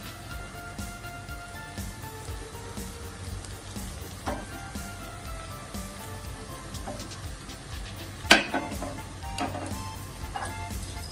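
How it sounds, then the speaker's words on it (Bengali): Chicken mushroom carbonara sizzles steadily in a frying pan while it is stirred, with a low continuous crackle and a few sharper scraping knocks near the end, heard close with no talk. "এখন আমি এটাকে আবার ফ্রাই করব।"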